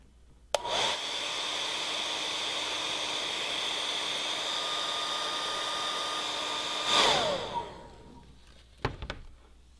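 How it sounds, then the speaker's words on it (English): A hairdryer or heat gun blows on the seam of bonded silicone tubing, a steady whooshing drone with a whine running for several seconds before switching off, followed by a couple of brief clicks. "Use the hairdryer or heat gun again on the seam for 15 to 20 seconds."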